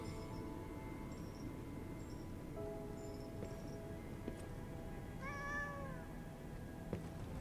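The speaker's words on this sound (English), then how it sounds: "The cat has a bell now." A cat wearing a bell meows in the video game Lies of P, several short plaintive meows scattered over a soft, rustling ambient background, fairly quiet and alone.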